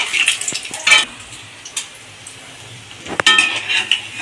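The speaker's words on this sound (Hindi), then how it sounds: "इसी तरीके से सभी बॉल को हम फ्राई कर लेते हैं" Egg balls frying in hot oil, with light sizzling bubbles and a few clinks of utensils against a pan, with a louder stirring scrape near the end.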